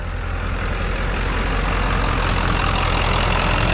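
A Ford diesel engine running on used automatic transmission fluid idles steadily and loudly up close, a continuous low rumble with no other sounds over it.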